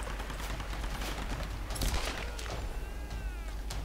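Gunfire in the Tomb Raider video game, landing a headshot: a few sharp gunshot bursts over a busy, dense game soundscape.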